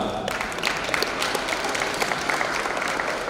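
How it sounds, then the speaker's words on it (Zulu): Steady, dense applause fills the hall at the Umhleli Foundation 2022 awards ceremony, with many hands clapping at an even pace and a few voices mixed in. "Cela nishayele ihlombe bantu bami."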